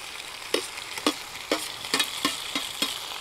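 Chicken sizzles in hot oil under a continuous hiss while a spoon stirs it with regular scraping strokes about every half second, close and loud, with no voices.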